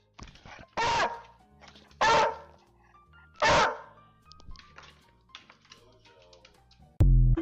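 A dog lets out three loud, separate barks spaced about a second apart, with quieter shuffling and faint sounds between them and a sharp bump at the end.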